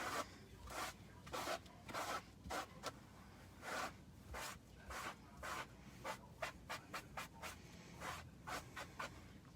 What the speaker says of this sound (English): I'm just going to wipe this off